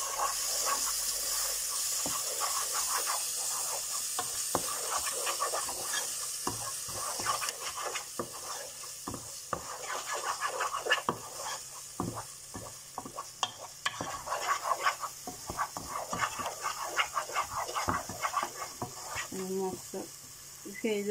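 Green chillies stirred in a hot frying pan, a steady sizzle with repeated scraping strokes of the spatula running throughout, close and fairly loud.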